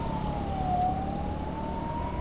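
An ambulance siren on a congested road sounds a steady, slowly wavering wail over a dense rumble of traffic, loud and continuous for the whole stretch.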